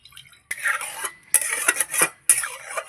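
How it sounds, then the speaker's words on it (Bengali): A metal kadai is rinsed with a little water, giving three bursts of scraping, sloshing and clanking separated by short quiet gaps. "এবার কড়াইতে একটু জল দিয়ে কড়াইটা ধুয়ে নেব।"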